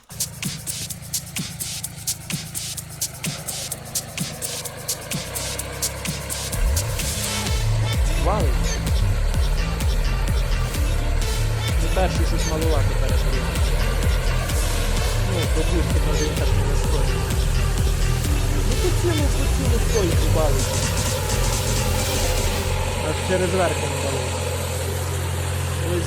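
A four-wheel-drive mini tractor engine runs steadily and close, its low mechanical rumble rising and settling into a constant drone, with someone talking over it throughout.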